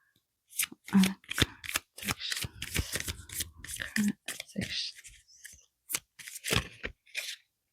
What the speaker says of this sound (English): So let's continue to shuffle